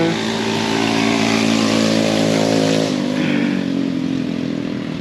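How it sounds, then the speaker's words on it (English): Loud motorbike engines roar close by on the streets of Vientiane, Laos, a buzzing rev that holds steady and then fades as the bikes pass. "even the noisy motorbikes don't upset me terribly much"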